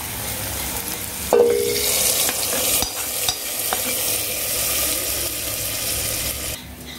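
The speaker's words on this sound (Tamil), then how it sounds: "இது நல்லா வந்து பொன்னிறமாக வதக்கிட்டு நம்ம கீரை கூட்டு கூட இதை வந்து தாளித்து கொட்டிக்கலாம்." Curry leaves sizzle and spit in hot oil while being fried for tempering a red-stemmed spinach koottu, with a steady frying hiss, a sharp crackle near the start and occasional stirring scrapes; no talking.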